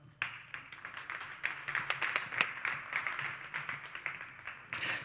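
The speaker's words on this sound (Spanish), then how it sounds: "Un fuerte aplauso para ellos" Audience applause at an Industry 4.0 talk on industrial quality and safety, steady, fairly soft clapping from a crowd that continues evenly for several seconds.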